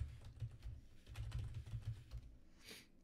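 Password being typed on a computer keyboard while setting up a VNC remote desktop server on Ubuntu: a quiet run of soft, irregular key clicks with short pauses, faint and close, without speech.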